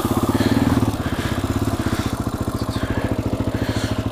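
A motorcycle engine revs hard while riding off-road, a loud, close, rapidly pulsing mid-pitched drone that holds high RPM throughout, with no talk.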